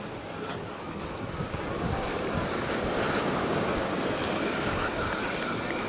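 Surf washes onto a beach in Crimea, a steady broadband rush of breaking waves that builds slightly after the first seconds, with some wind noise on the microphone and no clear talk.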